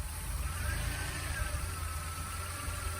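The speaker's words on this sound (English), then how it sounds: "that's my idle. And it just has like a little stumble to it" DeLorean engine at idle with a slight stumble, a steady low rumble with faint irregular unevenness, close by and without talk.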